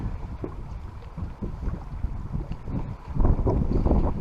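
Strong wind buffets the microphone on a lake during a cold front while fishing from a boat, a continuous loud rumbling roar that swells louder toward the end, with no voices.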